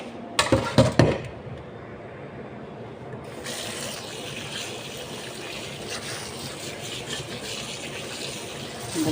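Tap water runs steadily while vegetables are washed in a kitchen in the Middle East, a continuous splashing hiss, louder in the second half, with a few brief clunks near the start.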